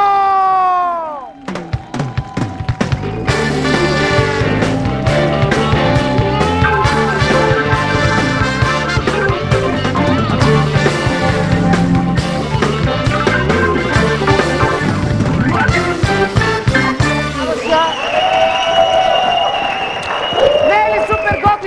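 A television talk show studio audience applauds the guest actor from the Stara Zagora puppet theatre, clapping steadily beneath loud, continuous show music that swells and then shifts to a brighter tone near the end.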